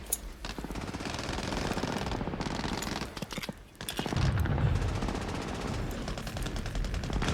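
Bursts of MG-42 machine gun fire in a Saving Private Ryan battle scene form rapid, dense rattling volleys with a short pause near the middle, loud and continuous against a rumbling battlefield backdrop.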